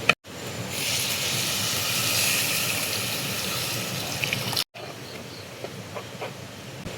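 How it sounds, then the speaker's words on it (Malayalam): Tamarind water poured into a hot pan of sautéed spice powders, giving a loud continuous rushing hiss for several seconds before a brief cut to quieter bubbling. "അപ്പോൾ ഇതിലേക്ക് ഇനി നമ്മുടെ വാളംപുള്ളി വെള്ളം ഒഴിച്ചു കൊടുക്കുക."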